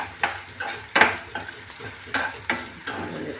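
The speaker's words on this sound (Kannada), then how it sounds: "ಫ್ರೈ ಆಗ್ತಾಯಿದೆ." Coriander seeds fry in a pan for chicken sambar, giving a steady sizzle broken by repeated scrapes and clinks as they are stirred, close and continuous with no talking.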